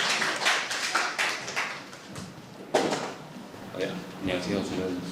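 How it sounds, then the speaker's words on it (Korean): An audience at a Korean conference session on cars and AI claps to welcome a speaker, heard as loose, fairly faint applause with separate distinct claps rather than a dense roar. "박수로 환영해 주시기 바랍니다."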